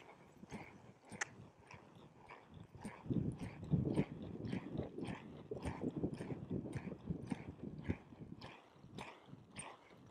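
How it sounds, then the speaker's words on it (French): A mare's hooves thud as she departs from a slower gait into a canter-gallop, rhythmic footfalls on soft arena ground, moderately close but faint, with no talk. "Alors là, on a un départ au galop."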